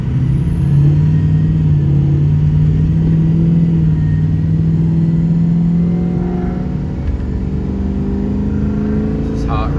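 A hot engine runs steadily at idle, giving a loud, close, continuous low hum and rumble that holds a near-constant pitch and drifts slightly upward toward the end.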